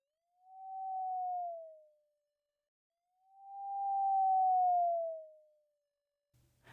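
Theremin, an early electronic instrument, sounding two slow, smooth pitch gestures that each swell, glide gently, fall and fade out, with a quiet gap between them, soft and pure-toned with no voices.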